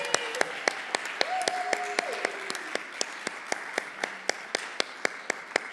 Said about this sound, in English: Keep clapping, people.